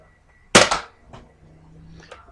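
A Nerf Elite Strongarm toy blaster fires a dart with one sharp, close snap, followed by faint mechanical clicks and a soft rattle.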